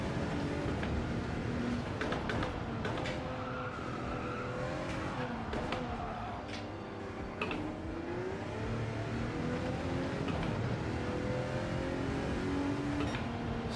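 A Group 1 race car roars around the Nürburgring in Gran Turismo 7, its engine droning loudly and steadily throughout, pitch climbing and dropping with each shift, under light tire noise and no talking.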